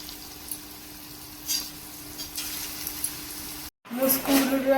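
Vegetable pakoda frying in hot oil, a continuous soft sizzle beneath someone talking, broken by a brief silence before a louder bubbling crackle resumes.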